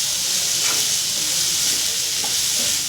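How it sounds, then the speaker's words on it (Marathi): Bell pepper strips stir-frying in a pan over reduced heat, a steady close sizzle with faint scraping of the stirring spoon throughout, no talking. "ढोबळी मिरची त्यात पूर्णपणे घालून घ्यायची आहे आणि छानपैकी परतवून घ्यायचे आहे।"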